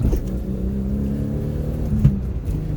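A black V6 Toyota Camry with a 5-speed manual strains under load while shifting gears, its engine giving a steady low, throaty drone that swells slightly near the end, with no talking.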